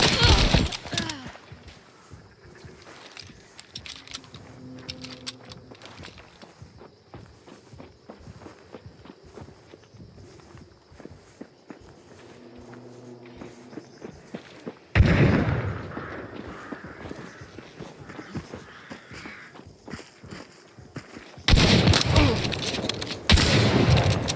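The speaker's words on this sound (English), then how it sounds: "Fucking shotguns. I had people on 2 sides of me." Shotgun blasts in the online shooter Hunt: Showdown, sharp loud bursts that break in abruptly near the end after a stretch of quieter footsteps and ambient game sound, with a player's voice heard.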